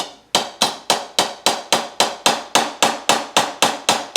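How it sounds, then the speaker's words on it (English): Steady, evenly spaced taps from a nylon watch hammer on a dented tin toy, about three per second, each a sharp ringing strike that decays quickly, close up with no talking. "I'll use this little hammer and tap and try to get the nylon side."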